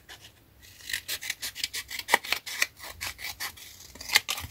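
Scissors cut through a paper craft pouch made with a die-cut kit: a steady run of close, crisp snips in a regular rhythm, with papery rasping between cuts.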